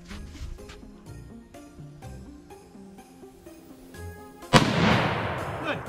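A gun fired once: a single loud, sharp blast with a lingering roar, after a few seconds of rhythmic music-like tones.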